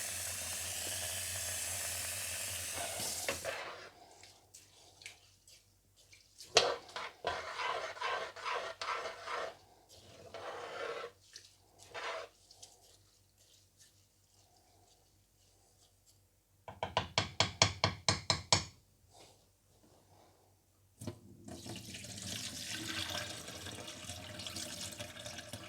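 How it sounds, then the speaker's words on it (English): Rice is rinsed in water for brewing rice beer: running water gushes, grains swish and rub by hand, and there are a few knocks against the container. It is close and heard alone in uneven bursts. "Rinsing the rice."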